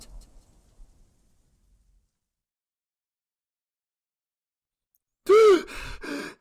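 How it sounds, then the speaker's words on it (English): A sharp, loud gasp for air bursts out after several seconds of near silence, followed by a shorter second ragged breath, voiced for a frightened little engine character in an audio drama. "The little engine gasped for air frantically and tried to compose himself"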